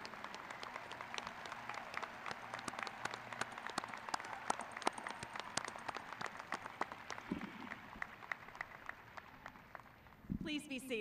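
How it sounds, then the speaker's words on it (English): Sustained applause from a large commencement crowd at the University of North Texas spring 2021 ceremony, honoring new master's graduates; dense, steady clapping with scattered sharp claps, fading near the end as a voice begins over the hall. "a big round of applause for the universe's newest master's students"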